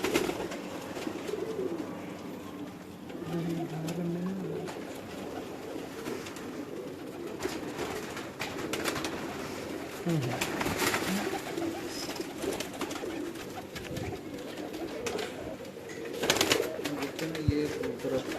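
Domestic pigeons coo steadily at a house, their soft repeated calls running throughout with a faint murmur of background noise.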